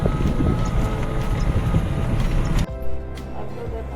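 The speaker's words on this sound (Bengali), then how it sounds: "ট্রেন" A loud, steady rumble of a moving train with rattling carriage noise and wind buffeting, shifting abruptly to a quieter hum near the end.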